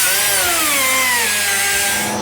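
A saw blade grinds through an old, rusted roof panel on a highboy truck, a continuous loud metallic whine with shifting pitch, close up and uninterrupted.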